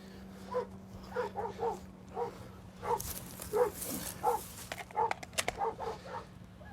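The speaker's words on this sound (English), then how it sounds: "waiting for additional units to cover him up." Police K9 dog barking from inside a patrol car kennel after a motorcycle suspect crashes, a run of repeated barks and yelps at moderate distance over a steady engine hum, with police radio bursts in the middle.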